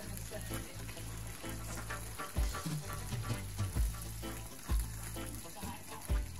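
Sea bream frying in a pan after being turned from its crispy skin side, a continuous moderate sizzle with occasional louder pops and low bumps, heard close over a steady electrical hum.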